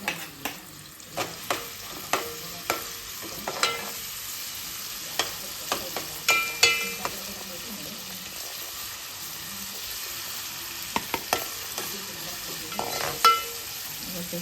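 Onion frying in oil for a mutton curry in a village kitchen, a steady low sizzle under sharp, evenly spaced scrapes and taps of a spoon stirring the pan, with no talk.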